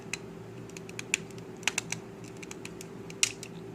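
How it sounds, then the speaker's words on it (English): Soft ratchet joints in the legs and knees of a Transformers Siege War for Cybertron Shockwave action figure click as it is posed, a scatter of small, crisp, quiet clicks over a steady low hum. "he also has soft ratchets in the leg"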